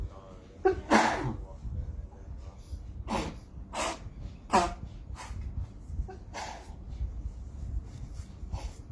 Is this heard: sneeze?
yes